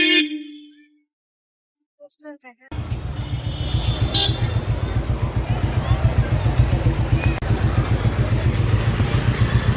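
A vehicle horn honks briefly outside a school at dismissal time, followed by a steady, rhythmically thumping motorcycle engine running close by for several seconds.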